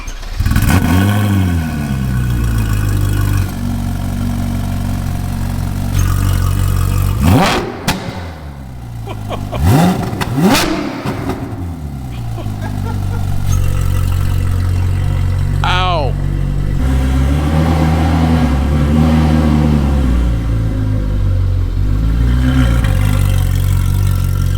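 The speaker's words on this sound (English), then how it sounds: "The exhaust is ridiculous." A loud modified Ferrari 458 or 488 engine and exhaust rev and roar repeatedly, pitch climbing and falling through sharp bursts, with a steady engine drone throughout and voices talking over it.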